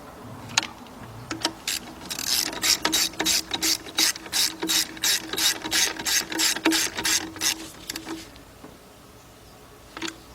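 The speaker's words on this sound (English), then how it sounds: "I got my 13mm deep, about a 6-inch 3/8 drive extension, and my 3/8 drive ratchet. That's gonna go in here, tighten these up." A 3/8-drive ratchet with a 13mm deep socket and extension tightens bolts during a timing belt and radiator job on a Chrysler-family engine, giving a rapid run of about twenty crisp, even clicks, with a few slower clicks before and after.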